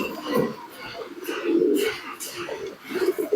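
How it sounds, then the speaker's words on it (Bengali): Jack pigeons in a loft give low, throaty coos in several soft repeated bouts. A person's voice is heard quietly alongside them. "পায়রা দুটো দেখুন কত সুন্দর কোয়ালিটির কবুতর রয়েছে।"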